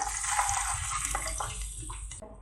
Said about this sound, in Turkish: Şimdi üzerine bir su bardağı sıcak su ilave ediyorum.